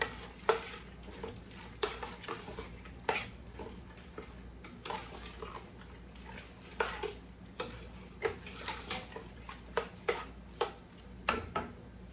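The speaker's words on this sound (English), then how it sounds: "Give this a stir." A spoon stirs peach BBQ sauce in a pot, giving soft, irregular scrapes and light clinks against the metal at close range, fairly quiet, with no talking.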